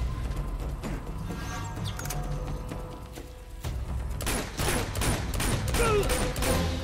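Small-gun gunfire in Uncharted 2 crackles in quick bursts of sharp shots, sparse at first and then denser and louder in the second half, alongside other game effects.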